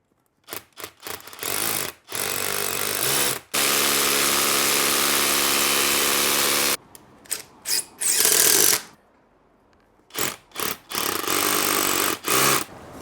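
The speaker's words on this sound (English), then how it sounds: "drilling straight through these into the stone and making sure they're nice and tight" A power drill bores fixings into stone in loud, sustained bursts, including one long run of several seconds, separated by short pauses and brief stops.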